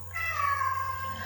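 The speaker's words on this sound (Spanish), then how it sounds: "Apareció el gatito." A found kitten gives a single drawn-out meow, fairly close and clear, over a low steady hum in a quiet indoor room.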